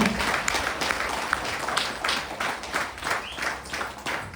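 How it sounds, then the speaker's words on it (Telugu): An audience's applause of welcome for first-time attendees at a Vestige meeting, a moderate wash of clapping that lasts the whole stretch, slightly distant and without speech. "సో ఫస్ట్ టైం వచ్చిన వాళ్ళ గురించి ఒకసారి great round of applause welcome చేస్తున్నాను నేను."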